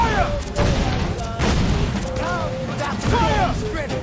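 Ship cannons booming in Assassin's Creed Freedom Cry, several loud blasts in quick succession mixed with broadside crashes, while shouted voices and a musical score run underneath.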